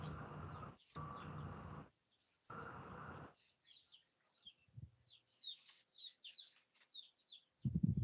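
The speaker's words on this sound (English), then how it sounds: "Because I can hear the birds in your place." Birds chirp and tweet outdoors near a house, scattered short calls spread across the clip, faint and somewhat distant, with bursts of other noise early on and no talk.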